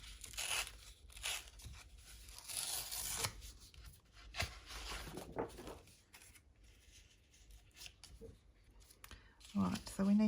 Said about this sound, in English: So we'll take another corner and rip it that way.